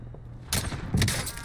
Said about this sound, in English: I heard gunfire from our right side